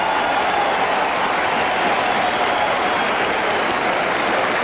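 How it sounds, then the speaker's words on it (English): A large racetrack crowd at the Belmont roars after Secretariat's Triple Crown win, a dense, continuous wash of cheering that stays loud and even throughout with no pauses. "Listen to the crowd."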